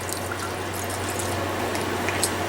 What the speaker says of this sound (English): put a little water in there